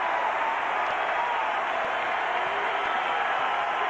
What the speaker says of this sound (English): A minute to go, and this crowd's really into it.